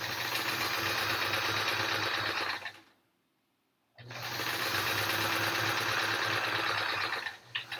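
Sewing machine running steadily while stitching quilt rows on a triangle-pattern quilt, loud and continuous with a humming motor, stopping for about a second partway then resuming at full speed.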